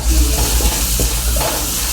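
Loud, steady sizzling of fish stir-frying in a hot wok, with scraping stirs breaking through the crackle.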